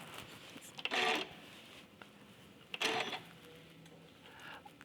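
A sewing machine stitches raw edge applique for a quilt in two short, fast bursts, each about half a second long, with quiet pauses between and a fainter whir near the end.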